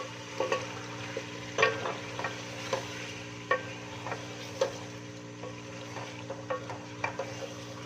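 Chicken and potatoes for Punjabi-style aloo gosht frying together in a pot, a low steady sizzle punctuated by regular spoon scrapes and taps against the metal, fairly quiet and close.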